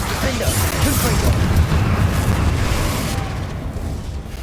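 Confringo fire-blast spell exploding in Hogwarts Legacy, a loud, dense rumbling boom that sustains and slowly fades over a few seconds, with a voice speaking over it.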